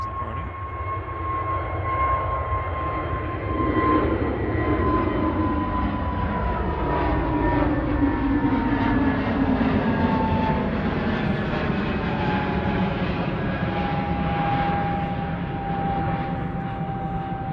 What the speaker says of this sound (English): Shuttle 3 Foxtrot to London Heathrow now, flight 1377 A320 Neo GTTSE.